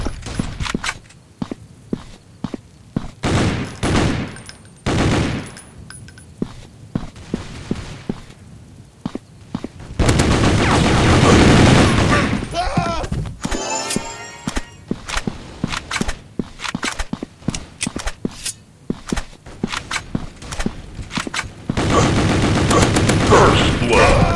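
Gunfire in a 3D shooting video game: scattered bursts of shots at first, then a long dense stretch of loud rapid fire, followed by more intermittent bursts, with game sound effects and footsteps mixed in.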